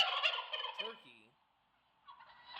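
A Ring doorbell's turkey chime: a loud turkey gobble, rapid warbling calls that trail off into silence before a brief second burst of gobbling.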